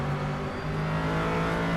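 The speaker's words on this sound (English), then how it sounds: "Gotta like these Corvettes, man. They sound so cool." Corvette GT3 race car engine at Laguna Seca in a sim racing game, a loud steady engine drone holding constant throughout with no talk.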